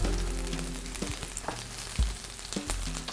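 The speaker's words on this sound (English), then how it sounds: "So we're just going to partially cook these onions in this pan." Onions frying in butter in a pan for a coq au vin stew, a steady close sizzle with a few sharp scrapes and clinks of a utensil, no voices.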